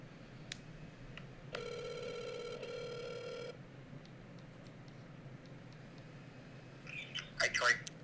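A phone call for a live-stream interview rings out as a single two-second electronic ring tone, clear against quiet room noise, with brief bursts of other sound near the end.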